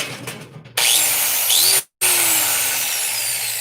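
New angle grinder in a hot rod workshop: a loud, harsh high-pitched whir spins up, grinds steadily, cuts out for a split second, then runs again continuously at close range, with no talking.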